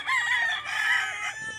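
A rooster crows once in a single drawn-out call, close and loud, on a chicken farm in Guerrero, Bauang, La Union.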